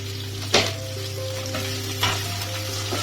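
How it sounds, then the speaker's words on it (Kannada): Onions and green chillies frying in a pan for a potato palya, a steady close sizzle with a few sharp stirring scrapes, no talking. "ಈರುಳ್ಳಿ ಚೆನ್ನಾಗಿ ಕೆಂಪಗಾಗತ್ತೆ ಅಂತ ಸ್ವಲ್ಪ ಫ್ರೈ ಮಾಡ್ಕೋಬೇಕು."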